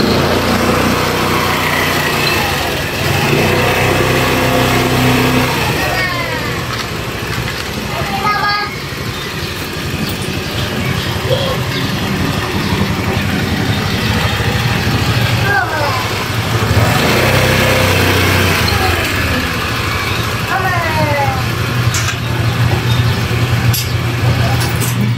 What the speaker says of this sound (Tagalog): Iba na yung tunog ng motor.